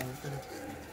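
Pigeon cooing at a Punjabi pigeon keeper's loft, a soft low coo repeated twice in quick succession, with a voice talking over it.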